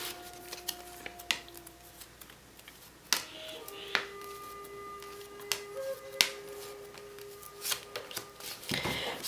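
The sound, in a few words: cards being pulled from oracle card decks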